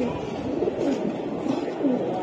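Palla line Giribaz pigeons giving repeated low, soft coos at a steady pace, close by against a faint murmur.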